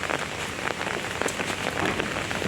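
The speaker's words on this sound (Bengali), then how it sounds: "ভালোই জোরে বৃষ্টি হয়েছে হঠাৎ করে এখন" Heavy rain pours down steadily in a dense, even wash of drumming drops on surfaces, with no voices and no thunder.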